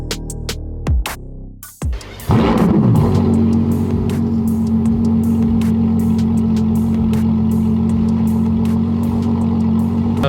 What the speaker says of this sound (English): A lovely visitor, a GT4 Lusso that we did with a full Novitec kit, wheels, lowering, full exhaust, all that stuff.